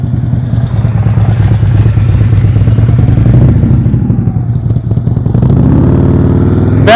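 A motorcycle during slow-speed riding practice, its engine loud and close with a steady low rumble and throttle held on throughout, revving up sharply near the end.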